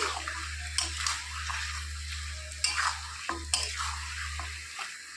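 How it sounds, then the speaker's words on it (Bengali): Goat meat sautéing in a pan over medium gas heat, a steady low hum under soft sizzling, with several sharp stirring scrapes and clatters spaced through the stretch. "আস্তে আস্তে ঢেকে ঢেকে মাংসটাকে কষিয়ে নিতে হবে"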